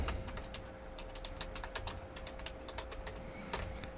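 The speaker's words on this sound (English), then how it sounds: "Type in your book title." Steady, brisk typing on a computer keyboard, entering a book title for self-publishing; close, crisp key taps in quick irregular runs with a faint steady hum beneath.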